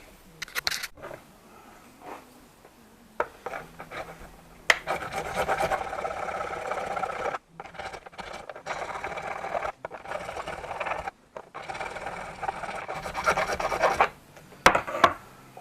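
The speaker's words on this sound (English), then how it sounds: "So just use a file to just to grind it down a little bit." Hand file grinding out a connector hole for a steering wheel swap on an Alfa Romeo Giulietta or Fiat 500 Abarth, bursts of close rasping strokes separated by short pauses, no speech.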